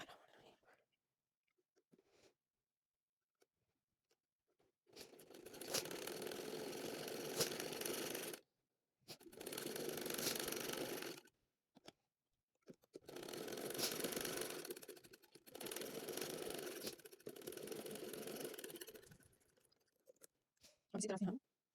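A sewing machine stitches fabric for a baby shirt in several steady whirring runs of a few seconds each, separated by brief pauses, close and fairly loud.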